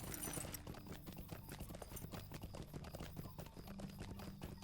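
A horse gallops in the LOTRO online game, hooves pounding in a quick, even, continuous rhythm, fairly quiet and steady throughout with no voices over it.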